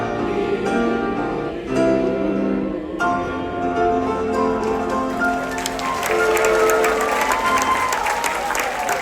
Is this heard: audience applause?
yes